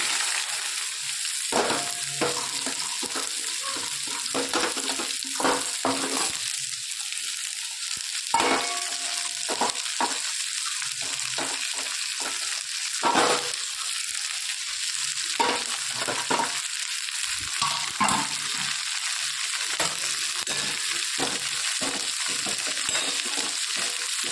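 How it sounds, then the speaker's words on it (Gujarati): Okra tossed into hot oil with crackled fenugreek seeds, sizzling steadily in a pan with repeated stirring scrapes and clatters throughout, close and continuous, no talking. "હવે એના અંદર આપણે ભીંડા નાખી દઈશું."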